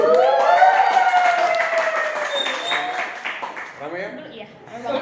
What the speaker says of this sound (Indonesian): Tepuk tangan guys, tepuk tangan.